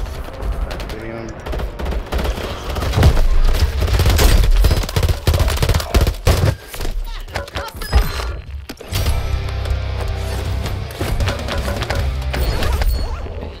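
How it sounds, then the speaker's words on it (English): Heavy automatic gunfire in Modern Warfare 3 aimed at the player, rapid bursts of assault-rifle shots with sharp impacts and crashes, loud and close, pausing briefly before resuming in a long sustained volley. "God, he's shooting at me."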